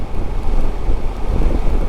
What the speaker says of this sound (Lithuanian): Lietus prasidėjo ir pradėjo vėjas kilt.